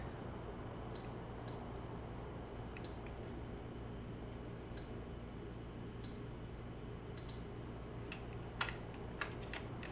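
Computer keyboard keys pressed while playing Farming Simulator 19, scattered single clicks and quick bursts over a steady low game hum, close and fairly faint, with no talking.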